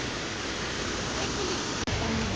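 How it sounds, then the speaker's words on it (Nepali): Constant rushing of water pouring from two water spouts in Dailekh, Nepal, close and steady, with a brief dropout near the end. "पानी छ, पानी धारा, 2टा धारा"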